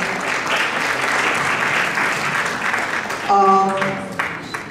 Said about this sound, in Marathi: जोरात टाळ्या वाजवा